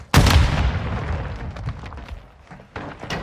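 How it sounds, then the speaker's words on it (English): Gunfire in the Call of Duty Modern Warfare 2 video game: a loud, booming shot opens, followed by a rumbling tail and a couple of further sharp reports near the end. "I'm taking fire."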